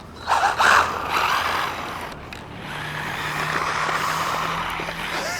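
An MJX Hyper Go 14211 RC car does a speed run, its small electric motor whining and buzzing as it races and spins. A brief louder burst comes at the start, and then a steady whir continues with no speech.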